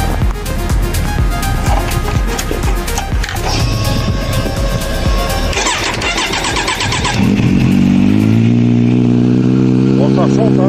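A Kawasaki Z900 motorcycle starts up close by, music or noise busy underneath before the engine catches and settles into a steady, loud idle with rising harmonics.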